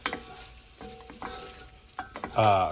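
A flour roux for beef stew is stirred in a pot, giving soft scraping and sizzling strokes in short bursts, ending with a louder clatter near the close.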